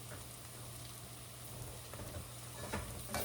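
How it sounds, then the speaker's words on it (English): Garlic and vegetables sauteing in bacon fat for a potato and ham soup, giving a steady, dense sizzle with faint crackles and a few stirring clicks, close and even, with no talk. "Okay, this is what sauteing means."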